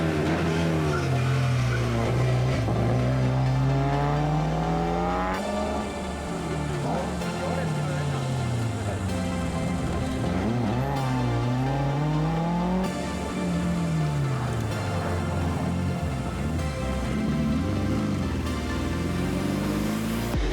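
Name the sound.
rally cars racing on Austrian special stages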